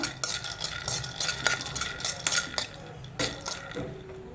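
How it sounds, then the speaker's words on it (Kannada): Peanuts roasting in a pan for a restaurant-style drumstick curry, heard as steady scraping and rattling of a spoon stirring the dry nuts against the metal, close and fairly quiet with no talking. "ಈಗ ಇದು ಕಡಲೆಕಾಯಿ ಬೀಜ ಸ್ವಲ್ಪ ಹುರ್ಕೋಬೇಕು"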